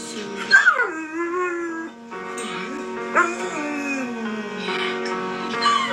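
A dog cries and whimpers while watching the sad part of The Lion King, its high wavering whines rising and falling close by with short yips, and a person talks over it.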